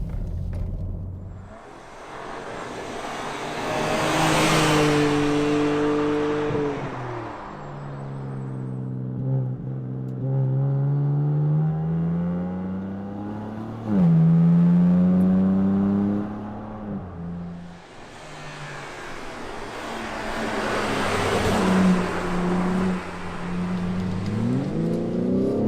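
A BMW M3 Touring on a winding-road test drive passes close, its engine revving up through the gears with rising and falling pitch, then it roars past again near the end, loud and with no talk.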